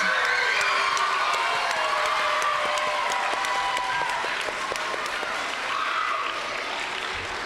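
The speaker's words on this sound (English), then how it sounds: "A round of applause for our fourth graders, most improved." An audience at a school awards ceremony for fourth, fifth and sixth graders bursts into loud, sustained applause, with dense clapping and some cheering and children's shouts carrying on for several seconds.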